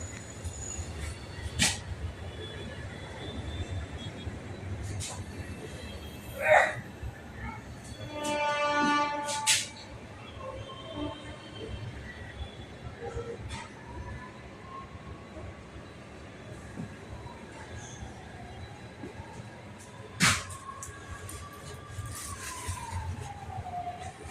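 A train rumbles steadily in the distance with a low continuous roar, occasional clanks and a brief whining tone partway through.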